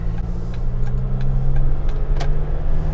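A car drives along the road on a roadtrip, its engine giving a steady low hum close by, with a few light clicks and jingles inside the cabin and no talk.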